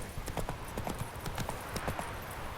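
In The Witcher 3, the horse Roach gallops with quick, rhythmic hoofbeats that run steadily and moderately close throughout.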